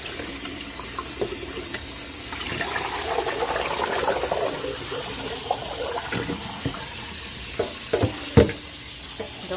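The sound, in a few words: rinsing raw oxtails under a running kitchen tap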